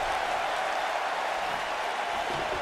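A wrestling arena crowd in WWE 2K19 cheers and applauds during an Elimination Chamber Universal Championship match, a steady loud roar of broadband noise throughout.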